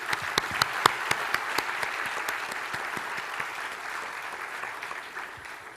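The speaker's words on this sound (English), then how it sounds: "A big applause for your grand achievement" A graduation ceremony crowd applauds steadily, with dense clapping at a moderate distance that fades slowly toward the end.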